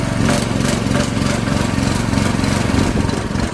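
A portable generator runs under a full 2000 W load, its engine droning steadily and loudly throughout with a constant mid-pitched hum and no pauses.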